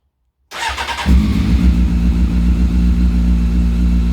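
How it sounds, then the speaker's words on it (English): A car fitted with a sports exhaust starts up loudly and close by: a short cranking whirr, then the engine catches and settles into a deep, steady rumbling idle. "I need to start it and see what it sounds like. So are you ready? Let's turn her on."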